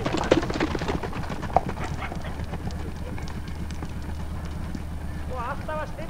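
Horse hooves clip-clopping on the ground during a riding lesson, a steady rhythmic beat beneath an instructor speaking almost throughout, with an occasional snort.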